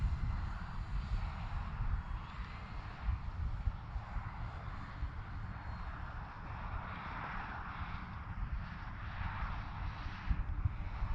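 An E-Flite Cirrus SR22T RC model airplane flying in for a crosswind landing. Its motor gives a steady, moderately loud hum mixed with rumbling wind noise on the microphone, with no talk.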